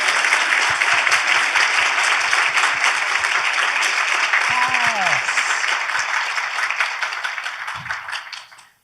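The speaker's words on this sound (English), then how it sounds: "Perhaps the longest and most important clap." Audience at an event launch applauding classroom teachers who stand up, a sustained wash of clapping from a large crowd with occasional voices, gradually fading out at the end.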